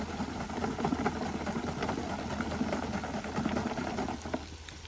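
Soaked tamarind is squished and stirred by hand in water inside a tin at an outdoor picnic, giving a steady, dense wet sloshing and patter that runs on continuously and fairly close.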